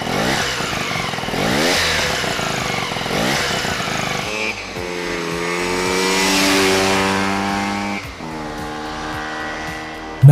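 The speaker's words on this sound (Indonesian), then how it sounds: "motor pertama yang berani mengusung mesin rotari" Hercules W2000 motorcycle with a rotary engine revving loud and close, its pitch climbing and dropping through several throttle blips over a steady idle, with no talk.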